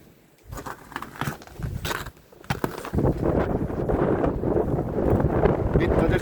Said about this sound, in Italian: Un vento assurdo.